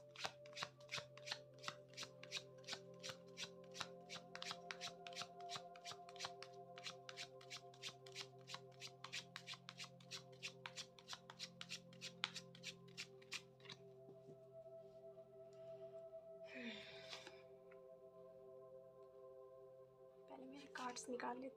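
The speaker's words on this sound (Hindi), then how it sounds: "पहले मैं कार्ड्स को अच्छे से शफल करूँगी गाइस।" Tarot cards shuffled by hand, a fast run of crisp riffling flicks for about thirteen seconds, then softer, sparser card handling with a couple of brief rustles near the end.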